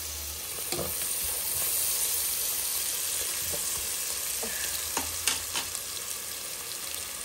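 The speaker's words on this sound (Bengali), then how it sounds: "এগুলো তো ভাজা ভাজা হয়ে একদম বাদামি কালার হয়ে আসছে।" Small chicken pieces fry in oil until brown, giving a steady, close sizzle throughout with a few sharper crackles and spatula stirs.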